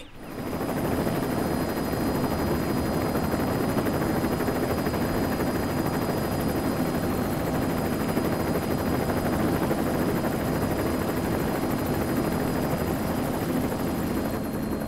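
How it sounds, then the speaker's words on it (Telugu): A helicopter's rotor roars loud and steady from start to finish, a dense continuous thrum with no voices. "హెలికాప్టర్ వచ్చింది, త్వరగా అందరినీ బస్సులో నుంచి దించండి."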